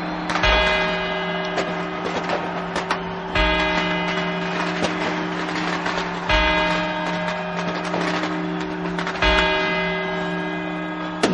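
Two side bells of a clock tower chime the quarters in a slow, evenly spaced series of strikes, each ringing out over a steady hum between blows.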